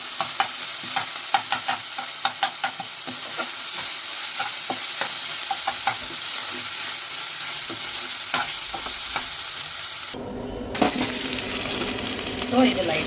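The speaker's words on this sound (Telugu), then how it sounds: "సో ఇది లైట్గా ఫ్రై అయింది" Mutton keema, pre-boiled minced meat, fries lightly in a pan with masala, giving a steady close sizzle broken by frequent sharp clinks of a spoon stirring against the pan, with a brief dip near the end.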